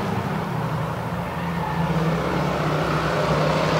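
Race cars in a feature race roar past together, a dense, steady engine drone that builds slightly in loudness with no voices over it.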